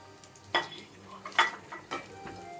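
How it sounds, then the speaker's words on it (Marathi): Whole spices (cinnamon sticks, cloves, black peppercorns, green cardamom and bay leaves) dropped into hot oil for a pulao, giving a soft sizzle with a few sharp stirring clinks and scrapes against the pan, fairly quiet and without talk. "2-3 दालचिनीचे तुकडे, 7-8 लवंगा, 7-8 काळी मिरी, 3 छोट्या वेलची, 3-4 तमालपत्र आपण हे तेलात घालणार आहोत।"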